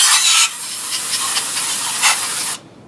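Brake cleaner aerosol blasts onto Rolls Royce G-valve parts as a loud, continuous hiss of about two and a half seconds, surging briefly twice before cutting off sharply.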